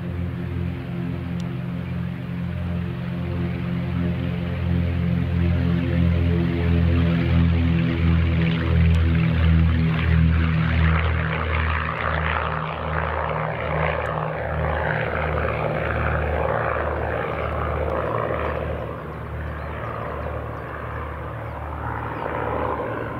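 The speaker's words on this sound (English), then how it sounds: "a small plane taking off from Marshall's Airport" A Piper PA-23-250 Aztec small plane takes off from Marshall's Airport in Cambridge, its loud, steady propeller-engine drone swelling to a peak and then easing slightly as it climbs away, with no talk.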